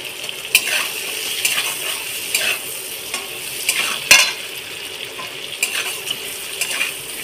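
Chopped garlic and ginger fry lightly in oil for chicken soup, a soft steady sizzle broken by repeated utensil scrapes and clinks as the pan is stirred, close and alone.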